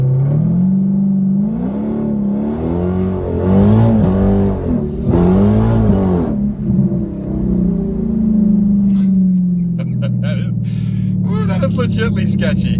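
A 2019 Dodge Challenger Scat Pack muscle car tuned to 700 horsepower launches hard on the street, its loud engine roar rising and falling as the tires spin, then sputtering down near the end.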